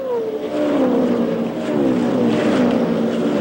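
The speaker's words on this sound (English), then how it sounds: "into the pits comes car number 22, Tom Bagley" A race car engine from the 1978 Phoenix race drones loud and steady, its pitch sliding down as the car slows into the pits, with faint wind noise behind it.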